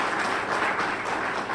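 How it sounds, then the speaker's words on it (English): An audience at a government EPWP Indaba gathering applauds, a steady, dense patter of many hands clapping together at moderate loudness without letup. "Can we have a round of applause?"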